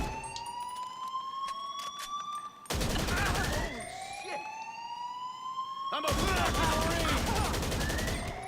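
Sustained bursts of gunfire from GTA 5 Online mix with a rising and falling police siren, two loud broadband volleys crashing in over a continuous wailing tone, with faint game chatter underneath.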